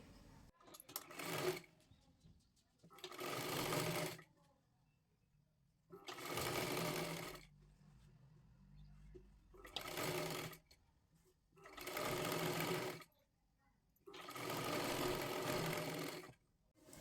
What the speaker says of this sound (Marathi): एकदम कडेकडेला एक शिलाई मारून घ्यायची आहे